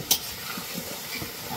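Potatoes frying and being stirred in a pan at an outdoor picnic cook-up, a steady low sizzle with soft scraping stirs and one sharp clink near the start.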